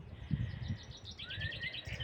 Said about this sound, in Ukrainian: Співають по весняному пташки, кличуть весну.